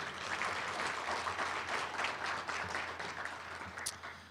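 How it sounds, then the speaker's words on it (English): An audience at an educator-of-the-year awards banquet in a hotel applauding, a steady wash of many clapping hands at a moderate distance, fairly soft and continuous throughout. "let's give them a hand"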